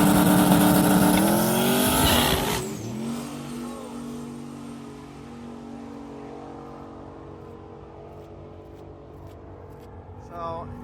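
The Tin Soldiers drag race car launches and roars away down the track on a sketchy, slippery surface. A loud rising engine howl gives way to a fading, steady drone as it pulls into the distance.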